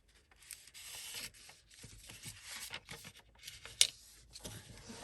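Old wrapping paper being folded and creased by hand for a wrap-around journal tag, with soft rustling and rubbing crinkles throughout and one sharp crisp crackle near the end.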